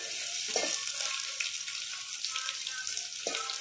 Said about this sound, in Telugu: పచ్చిమిర్చి కూడా వేసేసింది.